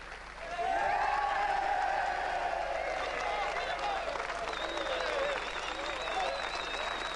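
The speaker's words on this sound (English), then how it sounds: "Yeah, the clapping helps." Steady applause from an audience, sustained clapping filling the room with voices and cheers mixed in.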